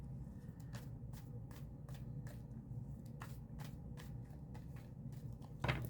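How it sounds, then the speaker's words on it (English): Quiet, rapid riffling of tarot cards being shuffled, soft repeated flicks in a steady rhythm, close by with no talking. "See how I have to shuffle?"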